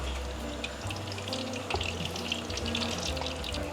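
Pork sisig frying in hot oil in a pan, a steady crackling sizzle with bright spattering pops, close and continuous, over a low background hum.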